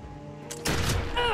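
Gunfire in the Expeditions: Conquistador video game, a sudden loud burst of shots after a quiet lead-in, followed by sharp crackling echoes, close and brief.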